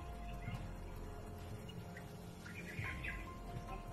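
Small birds chirp and tweet in the mountains away from town, giving faint, scattered calls over a low steady background hum, a little louder near the end.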